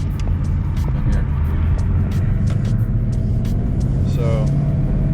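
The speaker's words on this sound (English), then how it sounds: "you can hear some exhaust escaping that way." A straight-piped Ford Mustang GT idles with exhaust escaping from leaks where the pipes join in the middle, giving a steady, close, low rumble and drone. A voice talks briefly over it.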